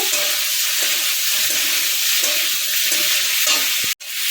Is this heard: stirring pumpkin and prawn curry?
yes